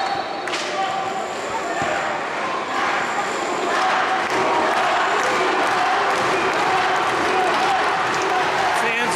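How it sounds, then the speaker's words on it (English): Arena fans at a Greco-Roman wrestling semifinal, 96 kg class, cheering for a Cuban wrestler against an American opponent: a continuous loud crowd roar with scattered shouts and thuds, sustained throughout. "Fans are cheering for Cuba."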